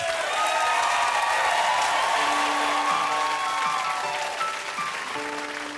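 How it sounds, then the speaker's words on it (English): An audience claps warmly for a young singer at a stage performance, a dense burst of applause that is strongest at first and fades gradually, with a few faint voices and cheers mixed in. "Please give a round of applause for Sparsh."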